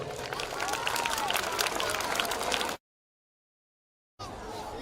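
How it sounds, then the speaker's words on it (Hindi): Loud applause and crowd noise at a school cultural event for the performers and their parents, dense clapping with voices, cut by a brief stretch of total silence before resuming. "आपके लिए भी और आपके पेरेंट्स के लिए भी तालियां बजाइए जोर से।"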